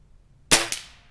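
Two sharp HW97K air rifle shots fired at a 25-yard target, the first louder with a crisp crack and short decay, the second softer about a fifth of a second later, alone in a quiet setting.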